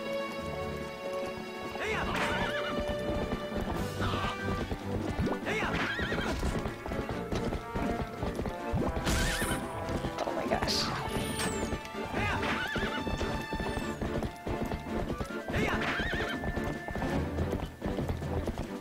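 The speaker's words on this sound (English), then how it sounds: "Get on the horse." A horse in the Zelda Twilight Princess video game gallops with continuous clip-clop hoofbeats, neighs several times, and crashes into things now and then. Game music plays throughout.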